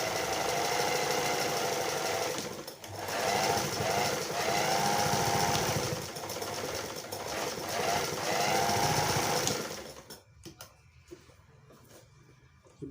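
A Singer Golden Girl sewing machine runs steadily while zigzag stitching, a continuous close mechanical whirring with a faint rhythmic clatter that pauses briefly and then stops near the end.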